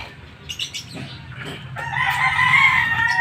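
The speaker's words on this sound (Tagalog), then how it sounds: "Manok." A rooster crows loudly and close at a mechanic's shop, a long drawn-out call rising after a few short clucks and wing flaps, with no talking.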